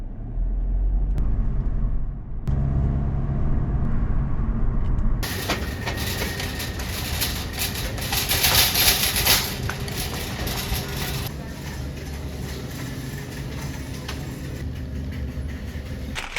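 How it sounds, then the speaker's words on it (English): A car on the road gives a steady interior rumble of engine and tyre noise, which shifts to a brighter, hissing road roar partway through and holds continuously with no clear talk. "So let's go for the drive."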